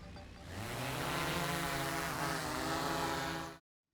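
A DJI Mavic 3 drone spins up and lifts off, its propellers whining in a loud, steady buzz that rises in pitch and holds close by for about three seconds before cutting out suddenly.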